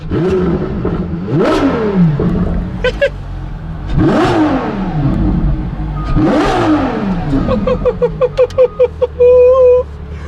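A LaFerrari engine revs sharply three times in neutral, each rev climbing and falling quickly, followed by a burst of rapid pops and crackles.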